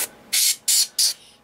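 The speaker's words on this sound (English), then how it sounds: "And I just spray it up off the track" An aerosol spray can hisses in three short, even bursts, close and loud, as dried mud effect is sprayed onto a vehicle model, with brief silences between blasts.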